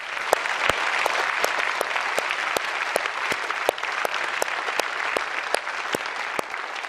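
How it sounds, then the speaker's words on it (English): Audience applause at a Harvard innovation awards ceremony, dense sustained clapping from a crowd with a few distinct sharp claps standing out near the microphone, steady throughout. "I think we should give him a big round of applause."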